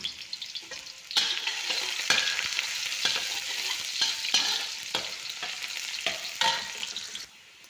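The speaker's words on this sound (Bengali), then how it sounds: "তেল গরম হয়েছে, আমি পেঁয়াজ আর রসুন দিয়ে দিলাম।" Onion and garlic frying in hot oil, a bright crackling sizzle with repeated scraping stir strokes at a steady rhythm, close and fairly loud before dropping off at the end.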